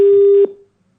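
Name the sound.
telephone call cut off, busy tone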